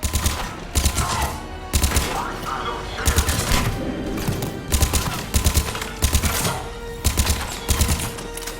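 Sharp bursts of automatic gunfire in Mass Effect 3 come in clustered volleys, loud and close, over a busy bed of combat noise with faint voices mixed in.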